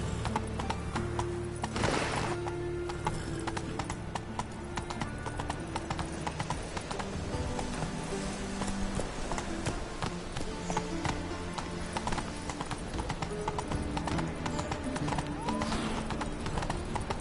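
A horse gallops in a video game, with a steady, rapid clip-clop of hooves running throughout and a brief whinny near the start. Faint talk is heard under it.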